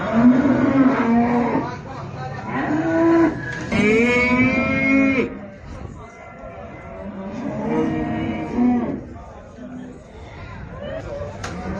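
Cattle at a busy livestock market give several loud, drawn-out moos, one after another, over the murmur of people talking in the background.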